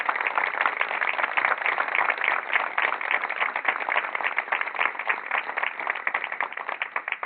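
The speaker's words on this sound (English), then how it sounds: "give a round of applause to all of you who served" An audience at a puppy enrichment center ribbon cutting claps for military service members, sustained, even applause from a sizable crowd lasting about seven seconds.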